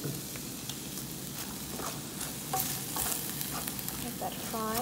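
Vegetables and garlic fry in oil in a pan for a vegan pasta, with a dense continuous sizzle and occasional stirring scrapes and clicks, close and steady, with no talking.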